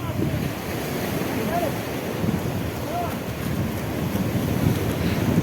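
Sea surf washing at the shore in Gujarat as a boat is pushed out into the water, a steady close rushing wash mixed with gusty wind noise on the microphone.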